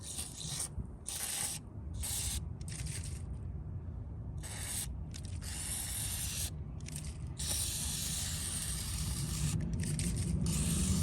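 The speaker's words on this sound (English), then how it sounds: "we'll spray it down with some WD" WD-40 aerosol lubricant sprays onto the speedometer cable of an EF hatchback car in several short and long hissing bursts over a steady low rumble, close and fairly loud, with no speech.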